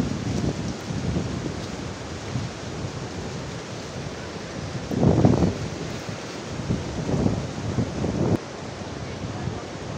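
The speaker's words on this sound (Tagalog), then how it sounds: "ito yung dagat dito. Napakalaki ng balod or alon." Big sea waves break on a beach, with rolling surges of surf swelling and crashing at intervals over constant wind buffeting the microphone, moderately loud and fairly near.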